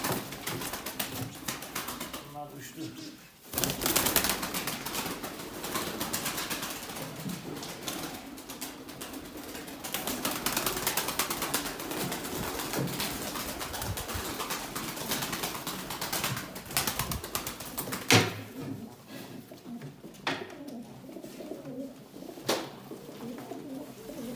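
Arab breed pigeons, young birds kept in a loft, coo steadily and close by with occasional bursts of wing flapping, a continuous soft murmur of bird calls throughout.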